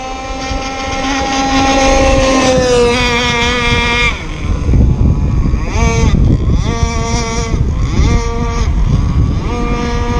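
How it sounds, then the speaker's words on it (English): A model racing boat's motor runs on water, a loud high-pitched buzzing whine that holds steady, then drops and surges in several repeated pulses as the throttle changes. "Good running boat."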